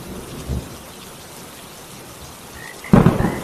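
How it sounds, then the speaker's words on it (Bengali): Heavy rain hisses steadily while thunder rumbles twice, a short low roll early and a louder crack-and-rumble near the end. "দাদা, কত জোরে বৃষ্টি নামলো দেখ"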